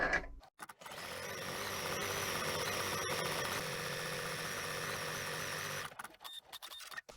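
Computerized embroidery machine stitching an Easter egg design in dark ecru thread, a steady dense mechanical whir with rapid needle chatter running unbroken for several seconds between brief clicks at the start and end.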